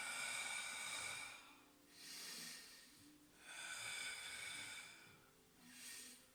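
Slow, breathy exhalations during a Pilates exercise come in three long, soft pushes of air, each rising and fading, close and quiet, with no talking.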